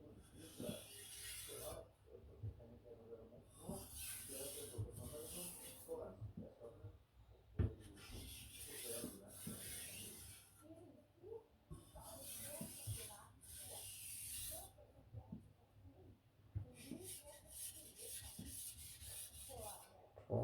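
A knife is drawn across a whetstone to remove the burr, giving close, repeated rasping strokes in regular bursts, each a few seconds long with brief gaps between them, with faint murmured talk underneath.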